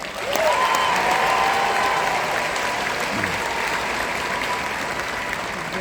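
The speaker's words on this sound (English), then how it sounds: "Let's all give these students a round of applause for this esteemed accomplishment." Crowd at a Texas high school graduation breaking into sustained applause, many hands clapping loudly and evenly for several seconds, with a few faint voices underneath as it slowly fades.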